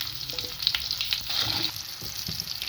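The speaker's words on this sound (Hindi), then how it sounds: "अब मैं इसके अंदर अम्बी डालती हूँ।" Raw mango pieces hit hot oil crackling with tempered kalonji and ajwain, giving a steady close sizzle with brief spattering pops and stirring scrapes throughout.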